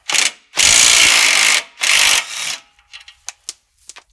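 A power tool zips off the 18 mm nut holding the sway bar end link to the lower control arm on a Ram 1500. Three loud, close whirring bursts are followed by light metallic clinks.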